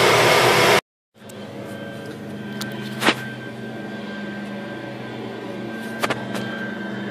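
Walnut-shell blasting of carbon from the intake ports of a BMW N20 engine: a loud rushing air blast that stops abruptly, then a steady compressor-like hum with a few sharp clicks.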